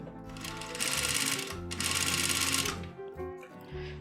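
A modified sewing machine runs in loud, rapid bursts while stitching leather patchwork, its motor whirring and needle chattering steadily, stopping briefly between runs.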